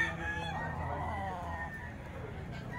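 At close range, a gamecock stag gives a single drawn-out crow that fades away.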